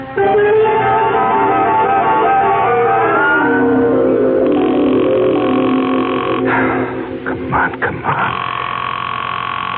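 A telephone being dialed in a radio mystery drama, with steady droning tones for the first few seconds, then clicks and tonal bursts mixed under a voice.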